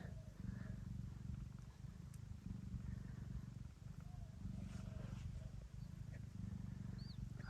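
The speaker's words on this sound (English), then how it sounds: "They can purr now." Young ragdoll kittens with pink paws purring, a soft, close, rhythmic low rumble pulsing in steady cycles, with faint little squeaks now and then.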